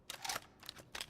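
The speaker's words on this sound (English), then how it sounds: "Swapping mags. Reloading." A magazine swap during a reload in the mobile shooter Rainbow Six Mobile: a few quick, light mechanical clicks and clacks, close and fairly quiet, spread over about a second.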